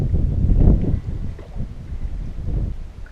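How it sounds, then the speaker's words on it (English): Strong wind buffets a lone canoeist paddling on a lake in Algonquin, a steady low roar of gusts against the microphone that swells and eases, with no speech. "Wind's been strong today."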